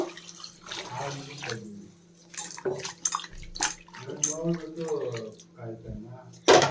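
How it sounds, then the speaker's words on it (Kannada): Water splashing as a bitter gourd is rinsed and washed by hand in a home kitchen, intermittent pours and sloshes mixed with someone talking over it. "ಈಗ ಇದಕ್ಕೆ ಒಂದ್ಸರಿ ನೀರು ಹಾಕ್ಬಿಟ್ಟು ಕ್ಲೀನಾಗಿ ತೊಳ್ಕೊಬೇಕು"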